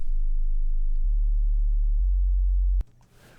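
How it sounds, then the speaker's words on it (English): A steady sine wave test tone plays alone, loud and pure, stepping down in pitch twice at roughly one-second intervals before cutting off abruptly into faint low noise. "I've got a sine wave here that I set up in advance."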